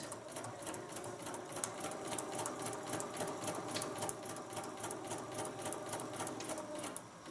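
A sewing machine stitches a small fabric bag, running in a steady rapid mechanical rattle that continues for several seconds without pause, close up and fairly quiet, with no voices.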